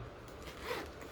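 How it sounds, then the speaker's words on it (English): A short, quiet zip as the zipper on a Rynox tank bag for a Royal Enfield Classic 350 motorcycle is pulled open, one quick rasping stroke close by. "You just remove this zip"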